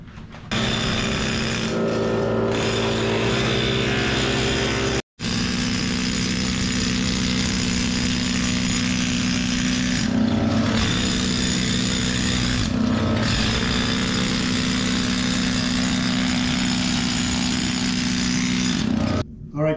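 An air-powered scraper tears up bathroom flooring during demolition, a loud sustained buzzing rattle running nearly nonstop with a brief break early on and a few dips in intensity.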